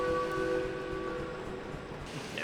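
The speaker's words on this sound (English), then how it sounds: "maybe the whistle can give us some good luck" A steam locomotive whistle in the train simulator game Derail Valley sounds one sustained, steady tone over a low rumbling engine, then cuts off, leaving the engine's chuffing noise alone.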